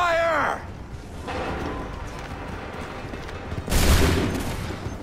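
Soldiers fire a musket volley in Assassin's Creed 3. A voice shouts a short command first, then a loud crackling burst of many shots follows after a stretch of battlefield noise.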